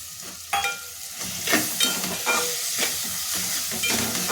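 Soaked dal and spices fry in a hot pan for a mustard greens dish, with a steady sizzle and hiss broken by repeated scraping stirs of a spoon, close and clear, with no talking.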